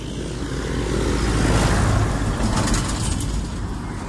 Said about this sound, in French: Donc là il y a un tracteur, donc je dois parler très fort.